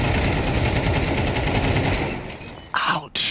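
Dense rifle gunfire in a Counter-Strike 2 esports match, a loud sustained fusillade that fades out near the end before brief voices cut in.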